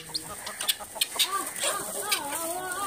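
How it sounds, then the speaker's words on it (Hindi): Chickens gather to be fed grain at a rural farmyard, clucking in short, overlapping calls near and far alongside higher chirps of other birds, with a soft steady background hiss. "देखो मुर्गियां हुण कट्ठियां होईयां ने, इन्हां नूं दाणा पाण लगे ने"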